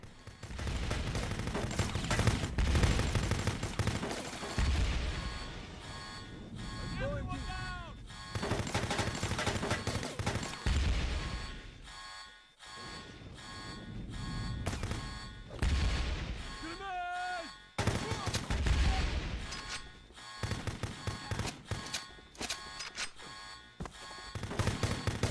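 Gunfire from the 2004 third-person shooter Kill.Switch, with repeated sharp shots and bursts scattered through a busy, loud game soundtrack.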